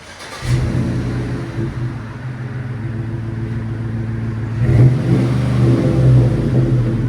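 A deep, rumbling 5.3L V8 engine in a 2007 Chevy Tahoe idles loudly and then revs up, its throaty exhaust through a Flowmaster 40 Series muffler and 2.5-inch tailpipe swelling near and strong before settling.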